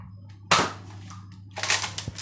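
A sharp pop of a Nerf foam dart gun firing, followed a second later by a burst of clattering mechanical noise.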